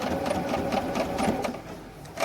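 A sewing machine stitches a straight seam along a wool coat, running in a steady continuous whir from start to finish, close and fairly loud with no talking.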